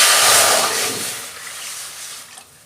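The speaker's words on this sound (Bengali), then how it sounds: "কড়াই জল দিচ্ছি।" Water poured into a kadai at the start of a cauliflower and potato dish, a loud rushing splash up close that tapers off toward a quieter trickle.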